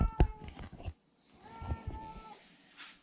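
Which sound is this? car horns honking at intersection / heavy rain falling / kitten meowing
kitten meowing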